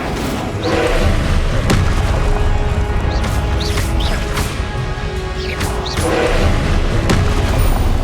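Incendio fire spell cast in the video game Hogwarts Legacy, loud whooshing bursts and booming impacts over a steady roar of combat effects, with repeated swells throughout.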